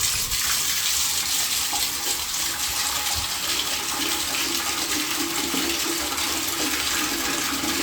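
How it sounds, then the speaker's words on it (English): Steady rushing water pours continuously from a tap with a bright, hissing spray, even and unbroken throughout, with no voices. "gonna catch the cold water"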